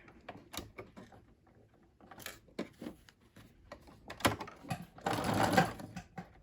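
Short, quiet bursts from a sewing machine stitching across elastic on a fabric face mask, ending in one longer run. Light clicks and handling noises fill the gaps between stitches.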